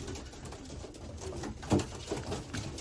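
Pigeons coo at feeding time in a loft, soft low repeated coos with light fluttering and pattering, fairly quiet and close, without any talk.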